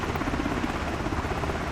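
A Black Hawk helicopter in Microsoft Flight Simulator 2024, its steady, loud rotor and turbine roar filling the whole moment with a dense, continuous drone.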